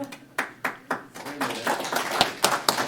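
Scattered applause at a county commission meeting, a handful of people clapping unevenly in a room, with voices talking over it.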